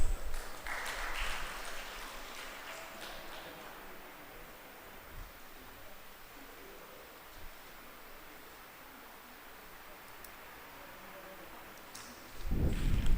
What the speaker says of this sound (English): The final round of applause, please.